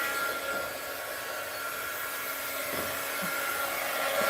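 A heat gun blows a steady, even stream of hot air at an art journal page, a constant close hiss and whir holding at the same level throughout.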